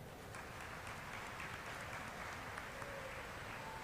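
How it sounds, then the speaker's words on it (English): A graduation day audience applauds the graduates, a faint, far-off, steady patter of many hands clapping in a large hall, holding evenly throughout. "Please give them a round of applause."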